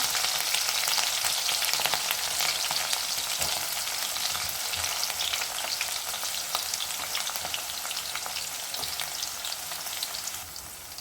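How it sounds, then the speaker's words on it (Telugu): Onions and green chillies fry in a hot pan for tomato curry, giving a dense, steady sizzle that runs without a break, close and fairly quiet, with no talk. "ఇప్పుడు ఆనియన్స్ పచ్చిమిర్చి అయితే వేసుకుందాం"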